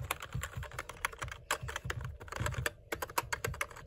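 Fingers type quickly on an ST-K3 computer keyboard, producing close, crisp, irregular key clacks in a continuous stream with no talking.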